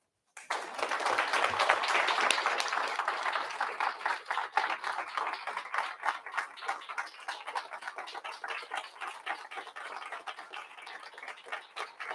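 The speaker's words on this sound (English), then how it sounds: "Let's give a huge round of applause" An audience at a board of education public session applauds award recipients. The clapping begins abruptly, is dense and loud at first, then thins into lighter, more distinct claps that continue to the end.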